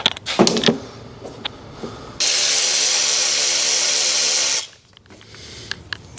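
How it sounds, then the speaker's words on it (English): A power tool zips a bolt off a Mercedes W211 E55 AMG's supercharger tensioner in one loud, steady burst of about two seconds, with ratcheting clicks and clanks before and after. "the last bolt on the bottom will come off"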